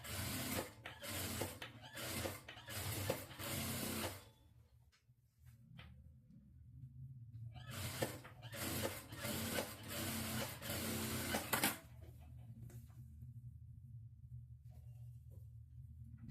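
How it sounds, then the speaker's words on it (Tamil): A sewing machine stitches an edge seam along the lining of a saree being made into an umbrella dress, running in several quick bursts with pauses, faint and close. "இப்போ லைனிங்கில் ஓர தையல் போட்டுக்கலாம்."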